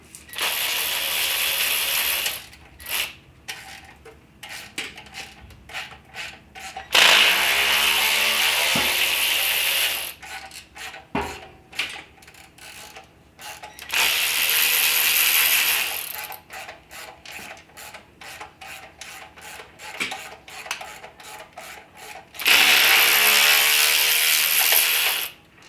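A ratchet wrench loosens bolts on a Chevrolet C10 pickup truck, bursts of fast metallic clicking alternating with quieter stretches of scattered clinks and handling noises, close and loud.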